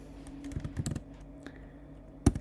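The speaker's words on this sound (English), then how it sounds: "we're going to type in here Fresnel" Keys clatter on a computer keyboard in irregular bursts while a search term is typed into 3D modeling software, with a louder isolated keystroke near the end and a faint steady hum underneath.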